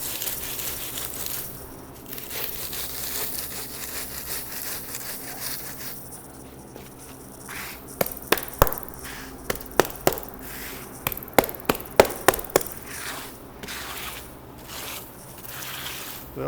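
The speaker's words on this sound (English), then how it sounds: "we're starting to get a semblance of a nice smooth layer with our float" A float works wet concrete for a slotted headstone base: a low steady scraping hiss, then a run of sharp knocks and taps at irregular intervals toward the end, moderately close.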